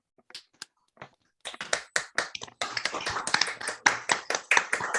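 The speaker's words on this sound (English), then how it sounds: "please unmute your device so we can give a round of applause for the Honorable Retired Carl Fox." Audience applause at an NAACP jubilee celebration, many hands clapping: a few scattered claps at first, then full, sustained applause swelling through the rest of the clip.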